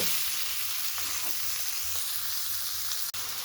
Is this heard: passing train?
no